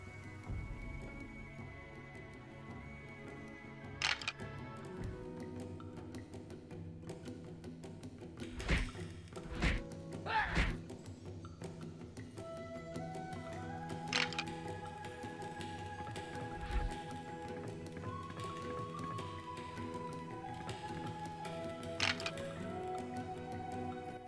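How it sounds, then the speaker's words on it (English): Attacks striking a training dummy in Dinotopia: a handful of sharp cracking thumps land at irregular intervals, some in quick pairs, over a quiet background of soft game music. "Approach the training dummy and attack it"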